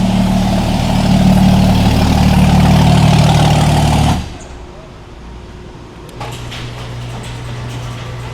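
A car engine with a failed turbo runs loudly with a deep, steady rumble, then drops to a much quieter idle before a low hum returns; nearby voices talk faintly.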